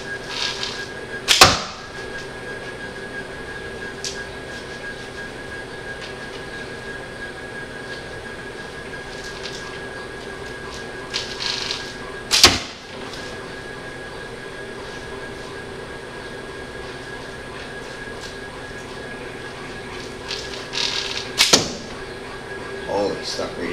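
Arrows shot from a homemade hourglass-design bow strike sharply, with three brief loud impacts spread over a steady hum of background noise, people talking faintly between shots.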